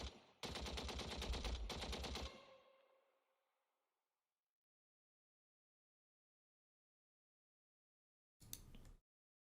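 In the Kursk wargame Valor and Victory, a loud burst of rapid machine-gun fire rattles for about two seconds and fades into a decaying tail, followed after a long silence by a second short burst.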